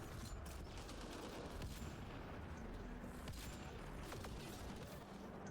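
Sustained firefight in Mass Effect Andromeda against outlaws: a continuous wash of rapid gunshots and impacts with a few sharper cracks standing out, fairly faint and steady throughout, no speech.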